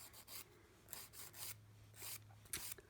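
Nail file rasping across a natural nail during a manicure to refine its shape, short back-and-forth strokes in a steady rhythm, close and quiet, with a low hum underneath and no talking.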